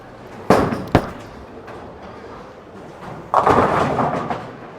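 A bowling ball, the Gem, thrown during league play: two sharp thuds early on, then a loud, spreading crash of pins near the end, with no talking.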